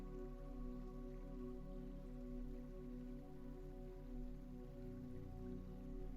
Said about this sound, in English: The rain continues, falls, touches, settles.